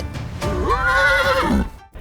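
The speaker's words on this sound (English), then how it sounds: "What's that you say, horse?" A horse neighs once, loud and close: a rising then wavering whinny of about a second with a throaty tail, followed by brief quiet.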